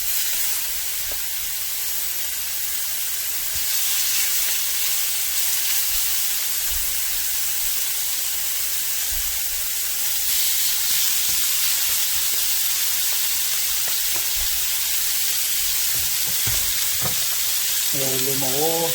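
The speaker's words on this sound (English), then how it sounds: "let's go ahead and add some steak. That's the sound you're looking for right there." Sirloin steak tips sizzle and fry steadily in an oiled pan, a loud continuous crackling hiss with occasional clinks near the end.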